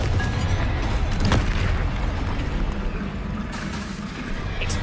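Deep, rumbling blast of the Confringo spell in a Hogwarts game, a sustained booming explosion with a sharp burst near the start and a low roar that carries through the whole stretch.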